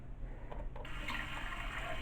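Water runs steadily through the cleaning nozzle of a Luxe bidet toilet seat in a bathroom, a faint continuous hiss and trickle that brightens slightly after a moment.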